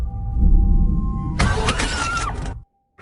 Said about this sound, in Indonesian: tiba-tiba mobil terhenti dan mesin gak mau menyala